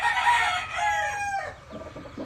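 A Boston Millionaire gamefowl rooster with a straight comb crows once nearby, a loud, ragged cock-a-doodle-doo that trails off into a softer, lower cluck-like ending over about two seconds.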